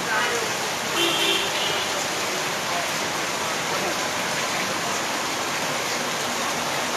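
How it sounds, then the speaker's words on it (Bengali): Heavy rain pours in a dense, steady hiss throughout, with a brief faint horn-like tone early on. "এই যে ঝমকা বৃষ্টি শুরু হয়েছে"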